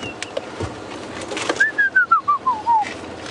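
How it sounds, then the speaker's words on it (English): Birds call from the bush on a sunset safari drive, a quick series of clear whistled notes that step downward, faint to moderately loud, over low vehicle rumble and soft background noise. "Oh, sounds like a nice bird party up ahead."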